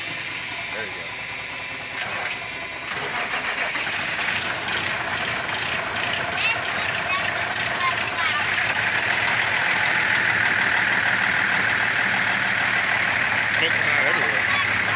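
A Cummins big cam diesel engine cold starting and settling into a rough, loud idle with clattering, ratcheting mechanical rhythm throughout, while people talk over it.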